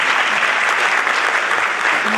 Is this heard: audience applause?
yes